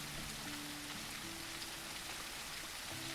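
Steady rain patters on a surface in the cozy shop game Teddy's Haven, a dense, even hiss that runs without a break, with faint low tonal game sounds underneath.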